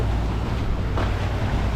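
A boat engine drones steadily at close range, a dense low rumble mixed with wind and water noise, with no talk.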